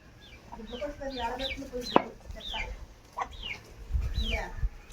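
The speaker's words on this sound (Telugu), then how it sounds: "ఇవన్నీ మన కోళ్ళే" Several chickens cluck and squawk in short, repeated calls, fairly close, with some low rustling and background noise between them.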